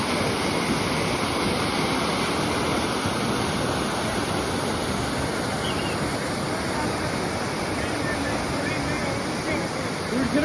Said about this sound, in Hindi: आवाज़ आ रही है तो वहाँ से,